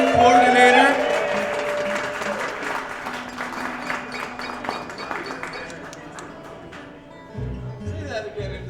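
Party guests applaud their host, a burst of clapping that starts loudly and thins into scattered claps, with voices talking over it and a short bit of speech near the end.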